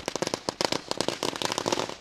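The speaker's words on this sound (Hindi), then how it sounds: "पटाखों से आतिशबाजी हो रही है।" Firecrackers and fireworks go off at the final day of the Bhoir Chashak match in Desaigaon in 2022: a dense, rapid chain of sharp cracks and pops bursts continuously, loud and close, with no voices.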